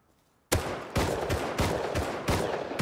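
Video game gunfire erupts after a brief quiet, loud rapid bursts repeating in quick succession, close and punchy, with several distinct volleys one after another and no talking.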